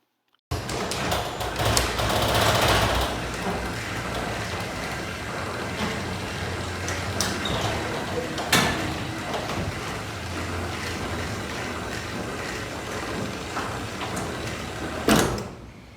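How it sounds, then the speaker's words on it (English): A chain drive garage door opener runs steadily with a continuous mechanical clattering drone, broken by a few clunks near the start, midway and at the end, and no talk. "Here's how loud the chain drive system is."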